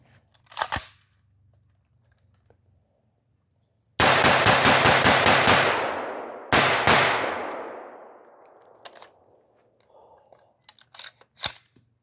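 Radical Arms AR-15 rifle fires a rapid string of loud shots in two close bursts, each shot cracking sharply with a long ringing echo trailing off outdoors, plus a few single isolated shots around them.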